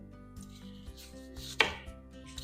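A kitchen knife thinly slices onions on a board: soft cutting strokes with one sharper, louder knock of the blade partway through, close and quiet, with no talking.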